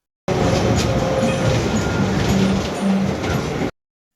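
A sky ride train at an amusement park in Narsingdi gives a continuous, loud rolling rumble and mechanical noise that holds steady for a few seconds before cutting off abruptly.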